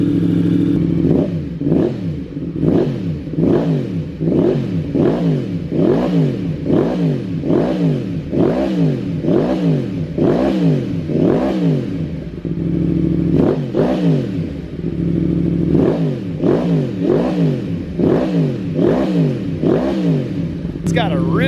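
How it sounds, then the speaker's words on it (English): A 2023 Yamaha MT-10 with an M4 exhaust and tune revs repeatedly in quick, throaty bursts, each rising and falling, loud and close, with a brief pause before the revving resumes. "We'll let it warm up for just a second, and then we'll give it some revs here."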